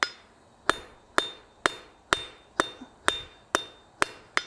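A blacksmith hammers hot metal on an anvil to draw it thinner, striking nine sharp, ringing blows at a steady, even rhythm with brief decays between them and no talking.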